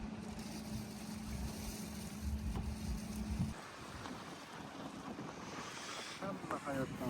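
Wind blows steadily across a microphone beside Lake Toshmorya during a fishing outing, a broad rushing roar with a low rumble in the first half that then drops away.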